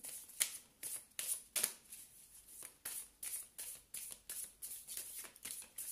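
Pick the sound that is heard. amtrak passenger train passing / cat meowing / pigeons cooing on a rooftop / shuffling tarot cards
shuffling tarot cards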